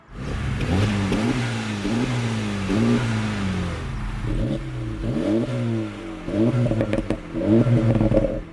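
A car exhaust revs repeatedly, several sharp throttle blips rising and falling in pitch, loud and close, with short pauses between bursts.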